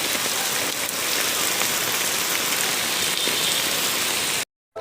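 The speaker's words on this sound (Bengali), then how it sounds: "প্রচুর বৃষ্টি পড়তেছে" Heavy rain pours down in a dense, steady hiss of drops striking surfaces, continuous and fairly close with no talking, ending abruptly.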